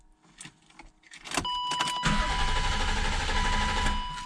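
A 1997 BMW 328ie engine being cranked over without catching: a steady, close starter churn that begins faintly and then continues loud for a couple of seconds, with no one speaking.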